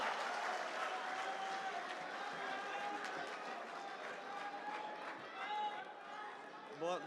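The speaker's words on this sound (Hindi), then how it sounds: "उमैर नजवी के लिए बहुत सारी तालियां बजा दीजिए" A crowd at an Urdu mushaira poetry gathering in Oman claps and cheers for a poet taking the stage, sustained dense applause with voices calling out over it.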